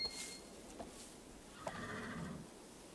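A horse in the Barbie Dreamhouse Adventures game gives a short, faint whinny, a brief wavering call near the middle over a quiet steady background.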